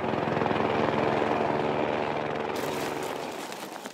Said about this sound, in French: L'hélicoptère enchaîne les allers-retours pour déposer de la nourriture,